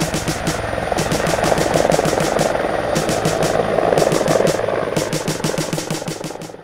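A Bell CH-146 Griffon military helicopter runs steadily at close range, its engine whine and rhythmic rotor chop pulsing throughout with no voices.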